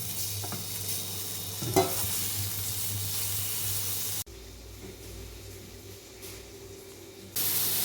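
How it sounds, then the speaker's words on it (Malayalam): Tomato sautéing in a pan for an eggplant curry, steady sizzling with stirring scrapes that drops quieter midway and then swells again, no talking. "ഇതിലേക്ക് നമുക്ക് തക്കാളി ഇട്ട് ഒന്ന് വഴറ്റിയെടുക്കാം"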